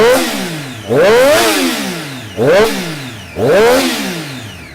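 A 2017 Triumph Daytona sport motorcycle engine revs hard three times toward about 10,000 RPM. Each rise climbs sharply and then falls away between blips, loud and close with no talk.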